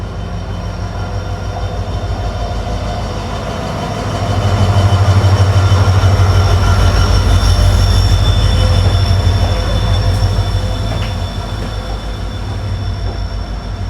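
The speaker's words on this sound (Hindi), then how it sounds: "दोनों ट्रेनों का क्रॉसिंग हो गई यहाँ पर" Two trains cross on a ghat section along the Kolkata Sairang Express route, a loud continuous rumble of wheels and carriages with metallic squeal, swelling as the passing train draws level mid-clip, then easing.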